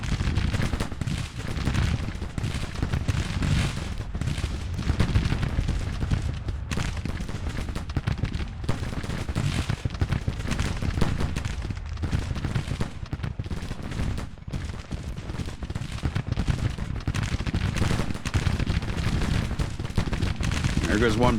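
Musket volleys crackle from Civil War infantry in the strategy game Grand Tactician: The Civil War, a dense, continuous stream of overlapping distant shots with someone talking over the battle.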